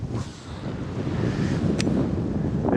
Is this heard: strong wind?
yes